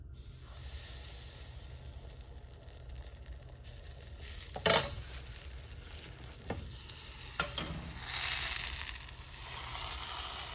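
Hopper batter poured into a hot appam pan and swirled, giving a soft steady sizzle with a couple of sharp metallic clinks of the pan partway through and a louder hiss toward the end.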